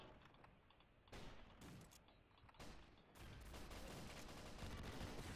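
SMG gunfire in the Roblox video game, quiet bursts of rapid shots with mechanical clicks, coming in short volleys before a longer sustained stretch of fire.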